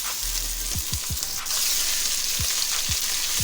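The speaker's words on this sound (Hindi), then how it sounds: "इसे ऑयल में फ्राई करेंगे गोश्त को।" Small pieces of pre-boiled beef fry in hot oil for achari gosht, giving a loud, steady sizzle broken by a few low knocks from a stirring utensil.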